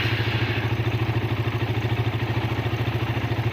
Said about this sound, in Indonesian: ini motor sudah bunyi sekarang